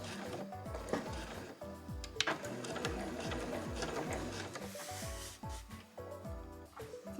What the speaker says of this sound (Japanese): で、縫い終わりも返し縫いをします。